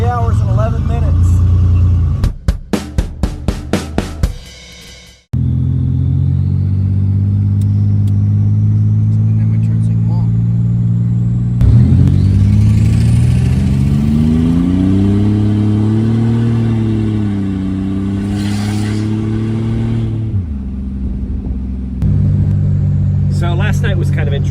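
Turbocharged 3.8 SFI engine warming up in a car, a steady low rumble that rises and falls with a brief rev, heard close under ongoing talk.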